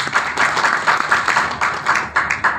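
Audience at a business plan presentation clapping loudly, rhythmic bursts of fairly close applause with individual claps standing out, brief and unbroken by talk.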